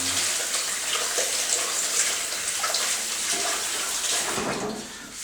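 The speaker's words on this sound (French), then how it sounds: "je vais me laver les mains, excusez-moi" Hands are washed under a running kitchen tap, a steady close rush of water with slight splashing changes, easing off at the very end.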